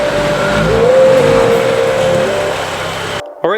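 A BMW M2 (F87) rolls into a garage, its engine note steady and close with a rising whine, before cutting off sharply near the end.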